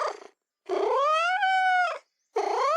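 A cat gives three close, drawn-out meows, the middle one long and wavering, with brief silences between them and no other sound.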